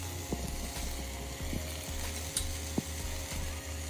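Steady sizzling of oil in a pan while frying the base for a side dish to go with chapati and ragi roti, with a few soft clinks of a utensil over a low continuous hum.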